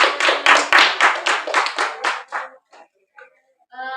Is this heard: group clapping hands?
yes